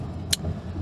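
Car driving on the road after an alternator replacement, a steady low engine and road rumble with a brief sharp high click partway through.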